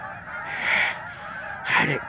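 Canada geese honking outdoors in two loud bursts, the second stronger, with no talking over them.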